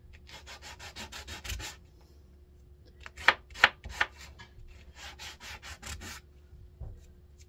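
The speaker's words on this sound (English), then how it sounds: "just sand a little bit here" A craft piece is sanded by hand in quick, rhythmic rubbing strokes, close and fairly quiet, with a few sharper taps partway through and no talking.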